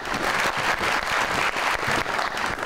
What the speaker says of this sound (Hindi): आइए जी, बहुत सारी तालियों में तशरीफ रखेंगे।